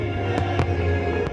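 Fireworks at Thunder, a large public display, heard as three sharp distant bangs spaced apart over a steady rumbling background, fairly loud with no talking.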